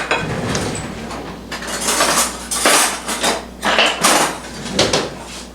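A spoon scrapes and knocks against a baking dish while scooping out a chunk of warm earthquake cake with coconut. The clatter is loud and close, with several distinct bursts of scraping.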